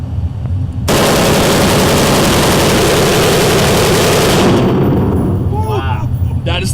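Rapid automatic gunfire from a firearm on full-auto setting at a shooting range, a loud continuous burst close by lasting several seconds, then stopping abruptly as a voice follows.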